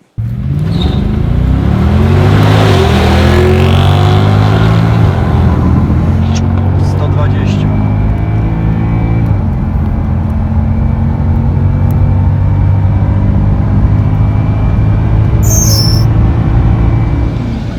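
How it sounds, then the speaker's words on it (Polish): Mercedes S63 AMG accelerating hard on a closed lot beside a motor museum in Oława. A loud, close engine climbs through rising revs with gear changes and holds a strong roar, with a voice talking over it. "Tak, jedzie ten samochód zaraz obok Muzeum Motoryzacji Wena w Oławie."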